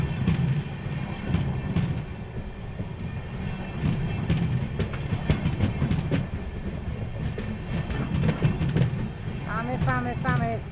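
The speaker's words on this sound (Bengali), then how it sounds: "খালি ট্রেন" A Guwahati to Dibrugarh express train runs on the rails with a continuous rumble and rhythmic clickety-clack of the wagons, while people talk nearby throughout.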